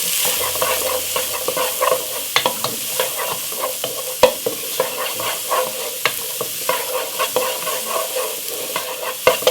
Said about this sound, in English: Saute it up.